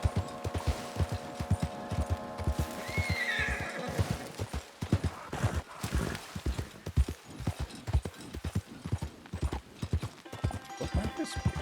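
Roach, a horse in the video game Red Dead Redemption 2, clip-clops along in a steady hoofbeat rhythm, with a clear whinny rising over the hooves near the start before the trotting continues.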